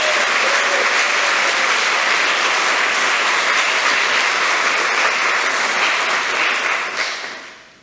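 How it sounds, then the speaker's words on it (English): A church congregation at a Sunday morning service breaks into a round of applause for a musician, dense and sustained for several seconds before fading out at the end. "Let's give him another round of applause."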